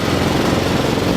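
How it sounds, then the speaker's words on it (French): Ride-on lawn mower tractor engine running close by, a loud, steady buzzing drone with a rough mechanical rattle that continues unbroken throughout. "quand je passe dessus avec mon tracteur de tondeuse"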